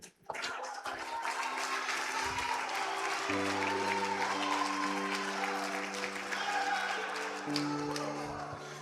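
A church congregation applauds during a family worship service, dense sustained clapping over a low held organ or keyboard chord that shifts pitch midway, loud and continuous for nearly nine seconds.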